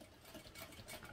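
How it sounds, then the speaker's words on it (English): A sewing machine runs a second line of stitching straight along an earlier seam on thick fabric, giving a steady, close mechanical whir for about a second with no talk. "So what I'm going to do is go back across that just with another line of stitching directly along the same line"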